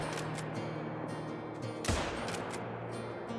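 A 30-30 lever-action rifle fires once while hunting in a video game. The crack is single and sharp, rising midway above a steady bed of game ambience.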